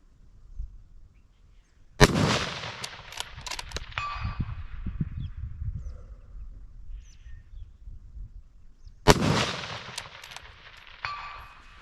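Rifle shots from .270 Winchester, .30-06 and .300 Win Mag rifles with a muzzle brake ring off steel targets outdoors: two loud sharp cracks several seconds apart, each followed by a bright metallic clang and a fading echo.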